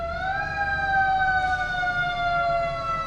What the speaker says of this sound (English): the infamous sirens here in Dedham are about to come by